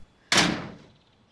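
A single door swings shut with a sharp, close thud that fades over about a second. It is followed by a faint tap in an otherwise quiet room.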